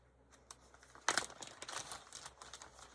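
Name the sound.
plastic bag crinkling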